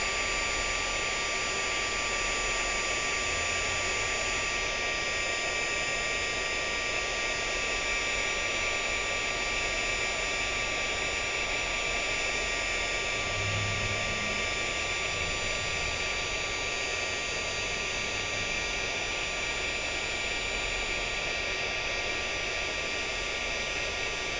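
A heat tool blows hot air steadily to melt embossing powder on a handmade card, a constant loud whooshing roar that runs unbroken from start to finish with no talking.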